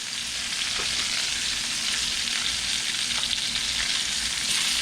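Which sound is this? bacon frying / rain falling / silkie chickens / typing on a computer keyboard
bacon frying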